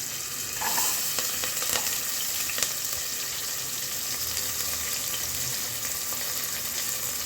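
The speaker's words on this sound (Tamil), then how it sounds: "இது லைட் ப்ரௌன் ஆகிற வரைக்கும் ஒரு 1 மினிட் அப்படி வதக்கிடலாம்." Shallots, a dozen or so small sambar onions, sizzle and fry steadily in a hot pan for sambar, a continuous close crackle with faint stirring and no voices.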